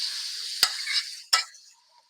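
Minced meat dropped into melted ghee for kibbeh filling: two sharp, close bursts of sizzling over a steady bright frying hiss, fading out at the end.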